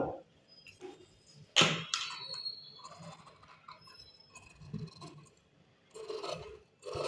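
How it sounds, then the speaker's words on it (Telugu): Scissors cut through blouse fabric close by with a few crisp snips and rough scraping, rustling strokes. The sounds are irregular and there is no talking. "ఇప్పుడు కటింగ్ చేసుకుందాము"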